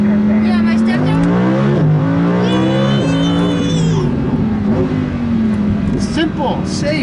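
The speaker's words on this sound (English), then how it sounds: "It's a Lamborghini, man. It's just a fast car." A 2015 Lamborghini Huracán LP 610-4 sports car accelerating from inside the cabin, its engine note rising and shifting through gears, with people talking loudly over it.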